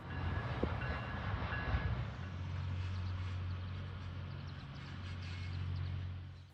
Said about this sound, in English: the VIA Rail Bud car backs into the station and starts to load